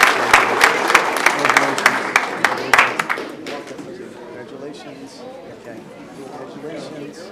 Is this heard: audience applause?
yes